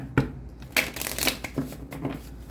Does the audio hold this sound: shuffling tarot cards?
yes